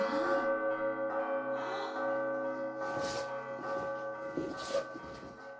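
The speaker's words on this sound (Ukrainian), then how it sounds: "Так звучить сигнал хімічної безпеки." A chemical safety warning siren: a steady ringing bell-like tone with sustained harmonic layers, repeated clangs and swells, loud and continuous with no talking.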